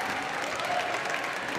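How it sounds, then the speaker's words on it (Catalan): Steady applause from a seated audience at a university graduation ceremony, a dense, even patter of many hands clapping continuously at moderate distance. "hem de mantenir el ritme en els aplaudiments"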